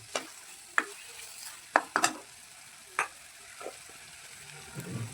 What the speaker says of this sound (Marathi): पूर्ण मिक्स करून घेऊ।